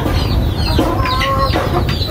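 Asil chickens kept by a backyard poultry raiser cluck close by, a few short clucks and calls over a steady low rumble of background noise, with no talking.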